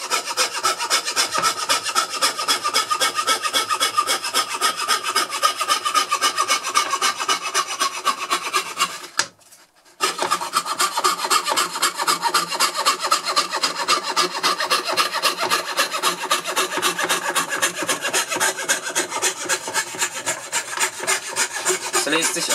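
A Skip progressiv saw blade cuts steadily through 10 mm birch plywood along a star shape with tight curves, giving a close, loud, continuous rasping that stops briefly midway and then resumes.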